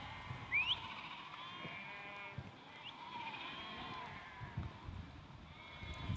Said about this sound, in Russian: Стада породистых овец стали неотъемлемой частью урочища Буруны